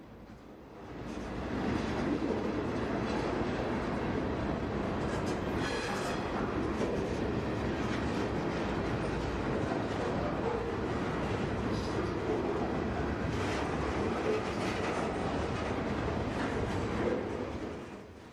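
Freight cars roll steadily past with a continuous rumbling clatter and occasional metallic squeals, fairly close.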